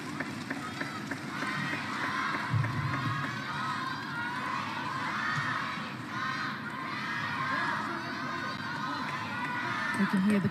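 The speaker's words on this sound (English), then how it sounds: "They can hear the crowd cheering the name of Sun Yingsha." Crowd cheering and chanting fills an arena during a women's singles table tennis match at the ITTF World Championships in Doha, a steady, dense roar of many voices carrying throughout, with a brief swell partway through.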